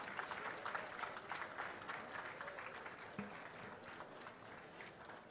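Steady applause from a crowd fills the whole stretch, dense and continuous clapping with no voices standing out.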